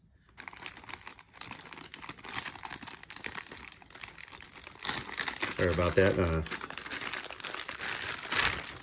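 Plastic crinkles and rustles loudly and close for several seconds while someone briefly talks over it.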